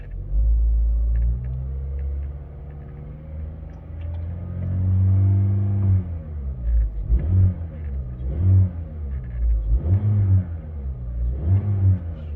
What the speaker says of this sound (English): And I'll give it a quick rev.